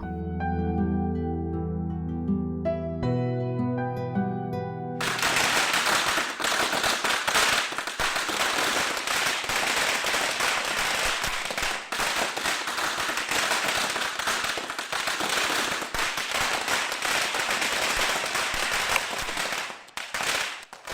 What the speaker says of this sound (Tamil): இந்த நேரத்துல பட்டாசு வெடிச்சிட்டு இருக்கிறது